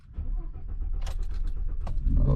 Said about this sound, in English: So now I'm just going to go ahead and start the truck to make sure everything is good.